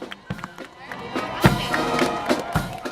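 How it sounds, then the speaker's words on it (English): A crowd at a Fourth of July parade in Washington, DC cheers and claps from nearby, with scattered shouts and a steady roar of voices and movement. "crowds cheered."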